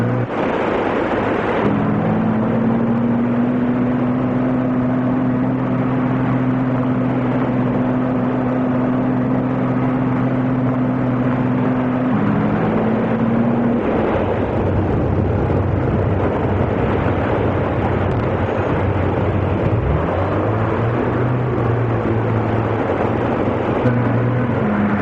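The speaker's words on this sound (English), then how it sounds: "The vehicle is in 4-wheel drive with the driver's foot hard down on the accelerator" An amphibious landing vehicle in four-wheel drive accelerates hard, its engine droning loudly and steadily with a sustained tone that shifts pitch partway through, then continues as a rough, close rumble.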